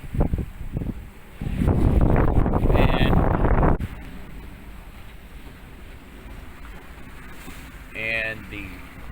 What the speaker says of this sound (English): wind has remained pretty consistent in this 20 knot range for quite a while now